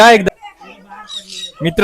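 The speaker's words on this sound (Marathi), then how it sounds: "माझ्या हातावर आलाय पोपट" A parrot perched on a person's hand gives harsh squawks and chirps close by between bursts of the person's voice, short and scratchy calls in the middle, at Peruchi Wadi in Nashik.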